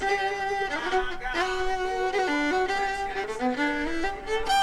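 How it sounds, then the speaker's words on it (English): Violin stem from a song with reverb added, a flowing bowed melody of shifting sustained notes, full and continuous, heard alone without talk. "The reverb of it sounds like this."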